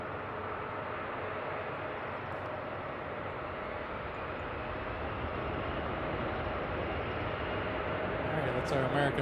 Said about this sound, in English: That's our American flight taking off here.